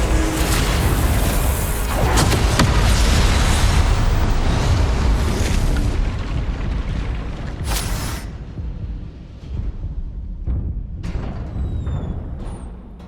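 Confringo spell explosions in the game Hogwarts Legacy during a combat encounter, a dense, continuous roar of blasts and bursts that thins out midway, leaving scattered pops and whooshes.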